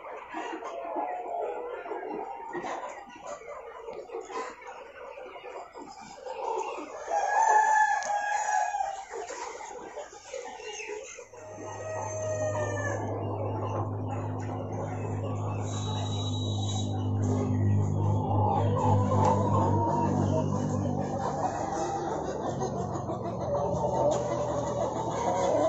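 Several mixed-breed roosters crow in drawn-out calls on a poultry farm in Punjab, followed by steady low clucking and murmuring from a flock, fairly close and continuous.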